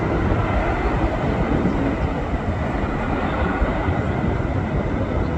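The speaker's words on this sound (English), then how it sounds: "he's officially finished his takeoff roll and he's out of here" A departing airliner climbs away from Manchester Airport after its takeoff roll, a loud, steady broadband jet roar that holds without pause and with no voices.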